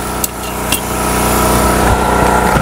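Tack welds fix a metal base for a laundry sink. A loud, close, continuous buzzing crackle sounds with a few sharp clicks near the start.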